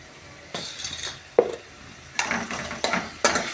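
Tomato curry for an egg kuzhambu is stirred in a pan: several bursts of scraping and clinking utensil strokes over a soft, low sizzle, coming in irregular close strokes.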